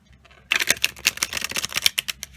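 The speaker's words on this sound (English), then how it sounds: "We'll finish this with a good old shuffle." A quick burst of crisp riffling clicks, tarot cards flicking rapidly against each other for about two seconds, close up after a moment of near silence.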